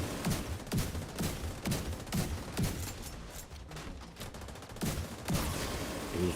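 Bursts of video-game gunfire from a shooter, sharp reports in quick clusters with short pauses between volleys, loud and close throughout with no voices over it.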